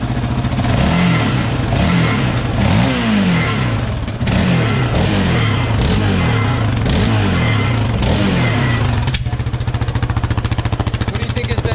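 An engine revs repeatedly with a rattling noise from inside its muffler, loud and close, rising and falling in pitch with each throttle blip before settling into a steady rattling idle.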